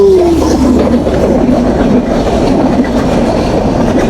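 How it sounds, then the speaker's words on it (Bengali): A train rumbles loudly past on a railway line at close range, a continuous heavy roar with rhythmic wheel clatter throughout. "তো এখন ট্রেনের জন্য অপেক্ষা করতেছি ট্রেনটা চলে যাবে"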